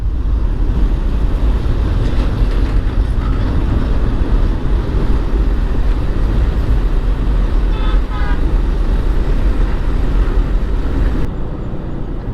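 A train approaches on the Jamuna bridge. A loud, continuous rumble fills the clip, with a brief tonal hoot partway through.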